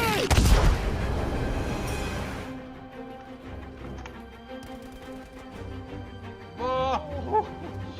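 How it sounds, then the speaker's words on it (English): Explosions from anti-tank grenades in the World War II shooter Battlefield V: a loud, crackling blast dominates the first two seconds, then fades to a low rumble. Fainter game sounds and a brief rising whine follow near the end. "we have Nugarios, Burt and Hainsworth showing us how to take out those pesky pilots with nothing more than an anti-tank grenade"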